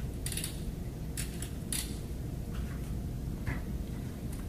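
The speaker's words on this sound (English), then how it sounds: "The new tool has an extra-large thumb wheel to help you precisely dial in the depth that you're looking for." Quiet clicking from the depth-adjust thumb wheel of a Paslode cordless 16-gauge angled lithium-ion finish nailer, in short irregular ticks under a steady room hum.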